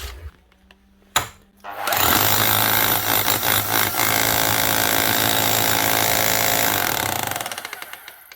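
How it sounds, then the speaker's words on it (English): A Makita rotary hammer drill in hammer-only mode with a flat chisel bursts into loud, continuous rattling hammering after a brief click, running steadily for several seconds before tapering off. "It's hammering."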